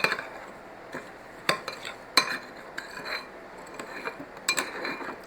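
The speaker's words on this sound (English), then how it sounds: "Stir this all up real good." Spoon stirring butter and brown sugar into a Brussels sprout casserole mixture, giving a quiet scraping with scattered clinks against the dish at irregular intervals, close and fairly soft.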